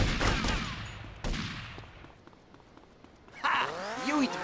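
Gunfire in the GTA Vice City video game during a mall shootout: bursts of shots ring out at the start and again around the middle, under game character voices, with a shouting voice near the end.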